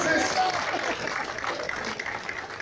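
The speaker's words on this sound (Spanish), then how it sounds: "Muchas gracias, un aplauso" A crowd at a political gathering applauds the welcomed president of Palmar de Bravo, with dense clapping that swells at the start and gradually thins out.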